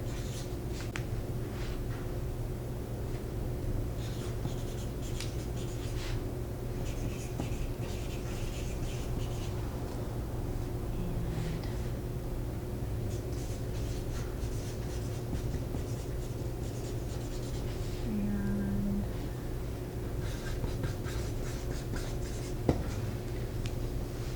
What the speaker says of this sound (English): So let me just write those quickly.